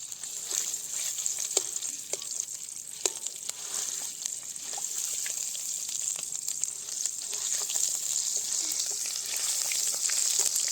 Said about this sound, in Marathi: आता पहिल्या प्रथम आपण तेल टाकूया. योगिता, मसाला परतून घे.